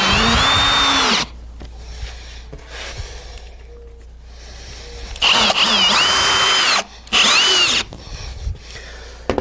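Power drill driving screws into a wood panel board, in loud bursts with short pauses between runs, close by and with no talking.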